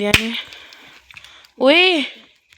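A single sharp, close firecracker bang right at the start, quickly decaying, followed later by a short voiced sound.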